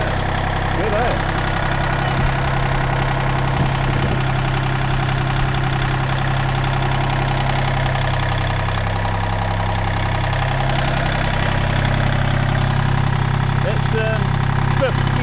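A small Kubota L1-18 tractor runs in gear after a clutch repair, its diesel engine chugging loudly and steadily throughout, with people talking over the drone.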